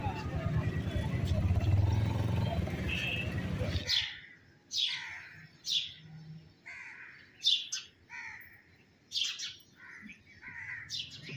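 Birds chirp in a rural Punjabi village, a series of short, bright calls spaced a second or so apart. A busier, noisier stretch comes first, then the calls stand out clearly against quiet surroundings.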